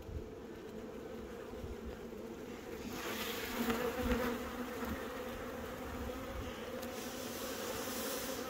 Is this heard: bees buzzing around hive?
yes